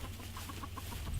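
Chickens in a mobile coop cluck in a soft, rapid series of short notes, steady and close over a low background rumble.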